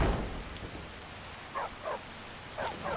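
Steady rain pouring down in a fantasy video game world with dragons, a dense constant hiss with a few soft rumbles of thunder, loud and unbroken throughout.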